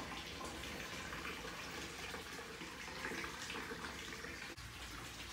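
Water pours steadily into a 125 gallon fish tank during a water change, a continuous hissing, splashing rush at low level with no voices.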